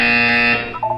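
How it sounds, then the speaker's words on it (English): A loud electronic buzzer from the Portal 2 video game sounds as a steady harsh tone for about half a second, then cuts off into fainter blipping tones. "You will hear a buzzer."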